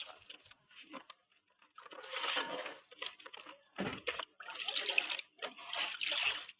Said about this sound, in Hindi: ये देखें जी, अब हम इसमें और पानी डालना है